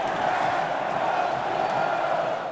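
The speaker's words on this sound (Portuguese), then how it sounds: "A torcida soltou o grito que não ecoava há 9 anos." A huge football crowd of nearly 50,000 Internacional fans roars and cheers a steady, dense wall of sound at a packed stadium celebrating the state championship title.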